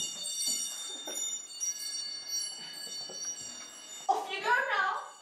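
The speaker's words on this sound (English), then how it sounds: "Chimes!" Chimes ring as thin, sustained high tones shimmering steadily in the background, while voices talk quietly throughout and one voice grows louder near the end.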